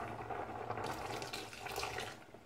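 Water splashes and pours steadily into a container nearby, a soft continuous gushing for a couple of seconds.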